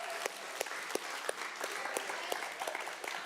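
An audience of students at a church youth panel gives a short, steady round of applause, dense clapping with a few sharper claps standing out.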